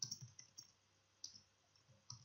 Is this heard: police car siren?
no